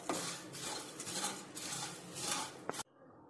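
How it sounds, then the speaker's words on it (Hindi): Poha chivda namkeen with powdered sugar being stirred and tossed in a metal pan or bowl, a continuous close scraping, rustling clatter of dry flakes and utensil that stops abruptly near the end. "अच्छी तरह से हमें इसको मिक्स करना है।"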